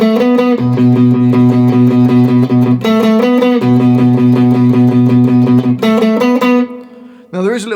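An electric guitar plays the opening two-bar riff of a song, repeated notes in a steady rhythm with a short ringing phrase each time round, loud and close with no talking.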